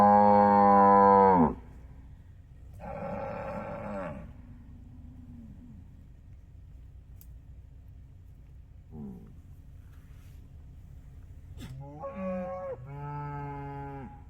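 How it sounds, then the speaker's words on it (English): Cattle moo loudly during a cattle drive on a street, with several long, deep bellows from nearby animals separated by quieter stretches of low ambient noise. "I think that's the leader cow right there."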